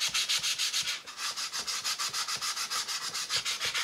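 Sandpaper rubs briskly back and forth across a wooden aircraft wing rib to chamfer its edges. The strokes come as a fast, even string of close, loud rasps, alone with no voices.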